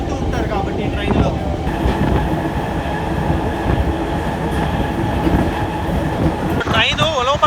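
A MEMU passenger train runs near Ulavapadu, its wheels rumbling and clattering steadily on the rails with squealing tones near the end, heard from on board with voices in the background.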